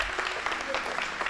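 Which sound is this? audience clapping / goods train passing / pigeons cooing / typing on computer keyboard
audience clapping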